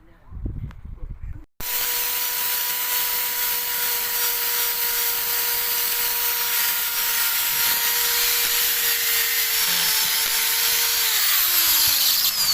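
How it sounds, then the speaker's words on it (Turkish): A short burst of activity, then a steady, loud high-pitched whine from a power drill running continuously while drilling to mount a garden door, pitch dipping slightly near the end. "delip matkapla montajını yapacağız."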